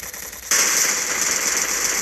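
Gunfire in the battle-royale game Free Fire, a burst of rapid automatic shots that starts abruptly and continues as a dense rattle, loud and close, with no talk.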